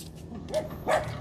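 A bully breed dog gives two short, fairly faint barks about a third of a second apart over a low background hum.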